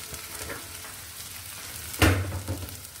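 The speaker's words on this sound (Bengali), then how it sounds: "পেঁয়াজটাকে একটু নেড়ে নিয়ে নরম করে নিব" Onions fry and soften in a pan, giving a steady close sizzle and hiss with one sharp scrape of a spoon partway through.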